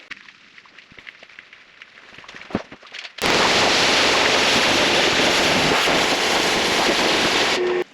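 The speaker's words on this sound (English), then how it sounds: "then we will rinse this off" High-pressure water sprays onto a grimy VW Tiguan. Quiet handling noises and a few clicks come first, then a loud, continuous hiss of spray starts abruptly and runs steadily until it cuts off at the end.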